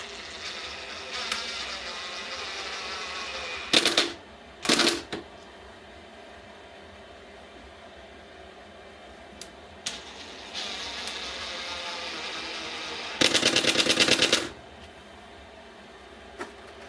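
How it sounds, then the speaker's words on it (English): A power driver runs 2-inch outdoor pocket screws into a wooden beehive body, giving several short whirring bursts and one longer close, loud run, with a steady low hum between them. "I start off with the screws first, and then I follow up with the staples."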